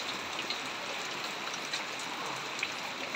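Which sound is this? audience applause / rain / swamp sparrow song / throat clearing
rain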